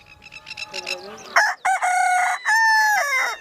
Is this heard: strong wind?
no